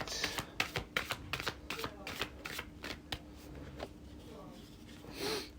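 Playing cards are shuffled close to the mic in a fast run of riffling clicks that fade out, and then a soft rustle and a faint voice follow.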